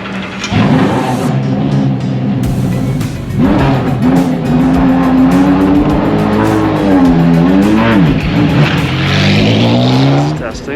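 A Corvette race car testing at Sebring International Raceway roars loudly, with the engine note rising and falling through gear changes and a brief drop before revving again, close and sustained across the whole stretch.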